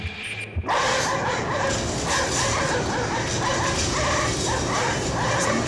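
Several dogs bark and yip over a game scene aboard a ship, the barking loud and dense, repeating in quick bursts over steady background sound after a brief opening.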